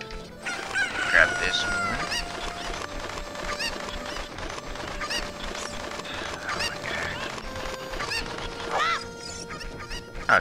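Chickens in The Legend of Zelda cluck and squawk repeatedly in sharp, close bursts, with a crowing call among them, while someone talks briefly over the birds.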